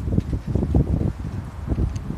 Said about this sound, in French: il y a du vent, je vais couper